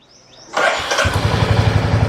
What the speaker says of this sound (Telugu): ఇప్పుడైతే బండి స్టార్ట్ చేసి చూద్దాం ప్రాబ్లం సాల్వ్ అయిందో లేదో